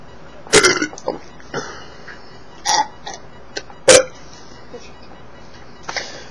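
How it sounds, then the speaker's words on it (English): Several loud burps come after a gulp of Frosty Root Beer, five or six short croaking belches spaced a second or so apart against a quiet room. "Frosty Root Beer is a great beer for burping"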